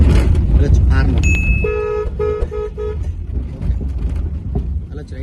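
Car horn honks in a short series of steady toots during a driving lesson in city traffic, loud over road noise, with an instructor talking throughout.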